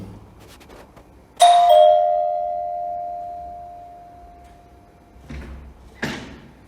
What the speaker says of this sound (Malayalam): ആരോ കോളിംഗ് ബെൽ അടിച്ചു.